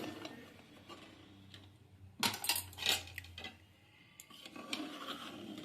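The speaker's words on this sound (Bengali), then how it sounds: "এবার আমি কুকারের ঢাকাটা খুলছি" A pressure cooker lid is opened in a kitchen while luchi is being fried, giving a few metallic rattling clicks and scrapes midway through, faint and close, over a low steady hum.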